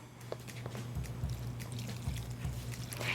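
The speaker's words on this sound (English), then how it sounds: "I'm gonna go in with water now" Water poured into a pot of diced vegetables and raw potatoes gives a faint, continuous trickling splash over a low steady hum, with small drips scattered through it.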